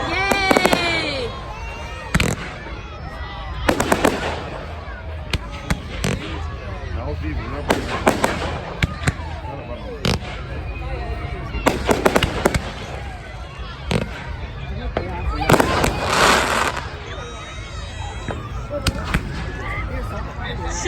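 Bonfire Night fireworks display on 5 November 2019, with repeated loud bursts and crackling volleys over about twenty seconds while a crowd cheers and people talk throughout.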